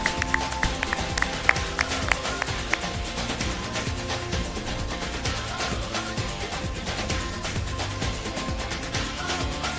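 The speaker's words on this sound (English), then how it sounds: "A big round of applause" Audience applause on a live-streamed community event, a steady patter of many hands clapping at moderate distance, with a few sharper claps standing out early on.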